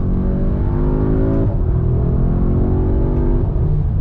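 An S3 car accelerates hard on a pull, its engine note climbing steadily in pitch, briefly dipping at a shift, then rising again, loud and close throughout with no talking.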